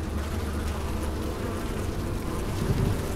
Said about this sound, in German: Das heißt, wir können hier eine Bienenbombe absetzen.